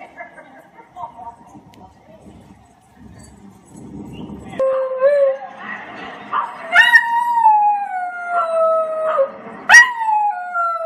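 A beagle on a dog TV program howls, with long, rising and falling howls and yips in the second half, loud and close, after a quieter stretch with soft background talk at the start.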